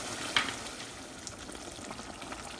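Chicken korma with whisked yogurt cooking and being mixed in a pan over medium-high flame, giving a quiet, continuous sizzle with a faint scrape near the start.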